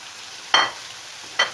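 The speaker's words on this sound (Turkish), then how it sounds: "Hepsini bir soteliyorum." Julienned green peppers and capia (red) peppers sautéing in a pan, two short bursts of stirring scrape and sizzle over a steady low background hiss, close and fairly quiet.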